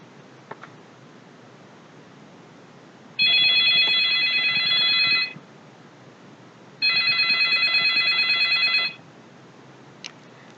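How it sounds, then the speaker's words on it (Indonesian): An office telephone rings in two bursts of about two seconds each, separated by a short pause; the trill is clear and close with no talking around it. "Di sini saya akan mulai dengan suara dering telepon terlebih dahulu"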